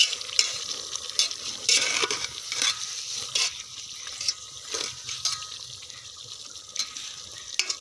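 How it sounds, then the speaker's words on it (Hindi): A spoon stirs a potato and aubergine curry in a pan, with repeated scraping strokes over a soft background sizzle, recorded up close in an irregular rhythm. "अभी मैं इसको हलाऊँगा चमचे से।"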